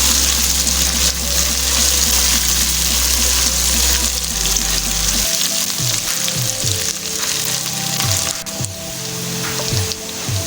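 Garlic and ginger paste frying in hot oil for a restaurant-style beef aloo keema, a steady loud sizzle throughout with occasional stirring clanks and scrapes near the end.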